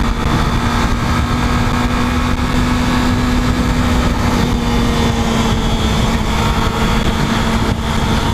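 Kawasaki ZX25R KRT ABS SE motorcycle with stock exhaust idling, a steady loud engine drone with a constant low hum running throughout, no talking.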